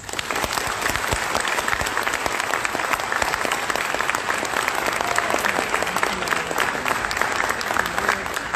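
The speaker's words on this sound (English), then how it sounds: "give your university a big round of applause" A large crowd of students applauds loudly and steadily in a dense, continuous wash of clapping that fills the whole stretch without a break.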